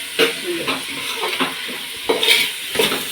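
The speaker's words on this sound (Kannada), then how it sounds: "ಚೆನ್ನಾಗಿ ಫ್ರೈ ಮಾಡ್ಕೊತೀನಿ" Masala spices frying in a hot pan for masala puri, stirred briskly: loud, close sizzling with repeated scraping strokes of a spatula at a quick, uneven rhythm.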